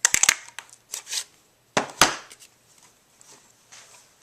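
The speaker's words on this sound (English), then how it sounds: "And taking my 1¼ punch. It's perfect for just grabbing the words." A 1¼ inch paper punch cuts out stamped words from cardstock, giving a few sharp close clicks and crunches in quick bursts, with a louder double snap midway and quieter rustling after.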